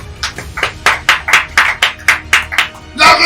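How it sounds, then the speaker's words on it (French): A church congregation claps in praise to the Lord Jesus, a steady run of about ten loud, even handclaps at a brisk rhythm, close and clear, closing with a fuller burst. "Acclamez le Seigneur Jésus"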